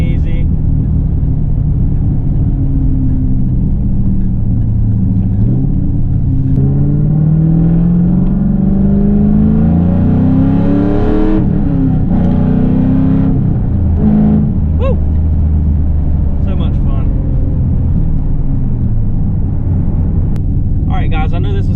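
A 4th generation Camaro SS V8 rises and falls through revs on downshifts, a loud, close, throaty rumble with sweeping pitch changes, while a person talks over it for much of the stretch.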